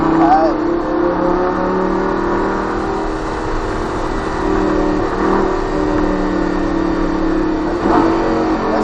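A Lamborghini Gallardo LP 560 with a 560 hp engine accelerates around the Trappes race circuit, its steady engine drone loud and continuous while a driving instructor talks over it.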